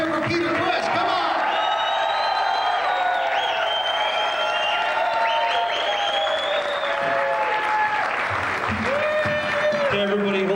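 An audience at a KISS convention applauds and cheers for Peter Criss, with loud sustained clapping, whoops and shouted voices over the whole stretch, some people calling out above the crowd.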